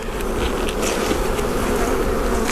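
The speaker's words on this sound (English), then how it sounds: "A lot of bees in there, some drones." Dense, steady buzzing of many honey bees, including drones, close up in an opened hive, a loud continuous hum with no talking.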